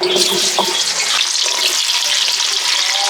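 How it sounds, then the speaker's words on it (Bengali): Potatoes frying in a generous amount of oil for a Bengali potato and pointed gourd curry, a loud, close, continuous hissing sizzle. "এখন আলু ভেজে নিব।"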